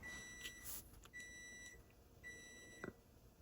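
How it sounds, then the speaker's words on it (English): A home oven's timer gives a few short electronic beeps at moderate distance over a quiet kitchen background, with a brief double chirp near the end. "If you heard the beep, that was from my oven."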